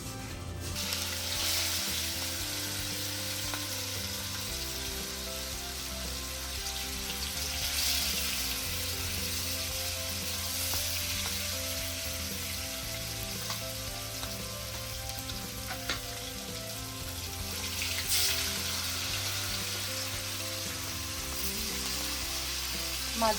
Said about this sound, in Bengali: একই ফ্রাই প্যানে এখানে মাছগুলো ভাজা করবে